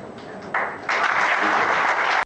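Young Democratic Liberal party members at a summer school applaud a centre-right civic initiative leader, a burst of clapping that grows fuller after a moment and holds steady before cutting off abruptly.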